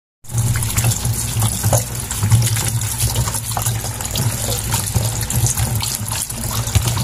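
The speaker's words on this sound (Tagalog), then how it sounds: "Ayan na po yung ating gulay. Huhugasan na po natin." Moringa vegetables are washed under running tap water, a steady close gush of water splashing into a sink with small clattering and rinsing movements, continuous and without talk.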